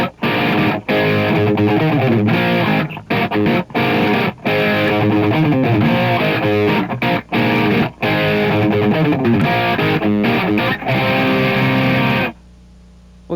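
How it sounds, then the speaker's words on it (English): A loud, dry electric guitar riff, played with heavy chorus and no reverb, runs in choppy rhythmic bursts with brief gaps, then cuts off abruptly at the end. "I've turned the reverb off and turned a lot of the chorusing on to get this sound."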